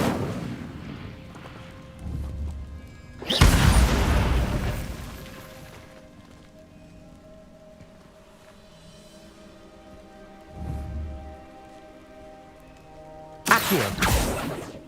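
A fire spell cast in Hogwarts Legacy, heard as two loud, sharp whooshing bursts about ten seconds apart, each followed by a softer low rumble, over quiet game ambience.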